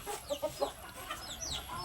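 Backyard chickens cluck in a few short, close bursts over quiet background noise, with no one talking.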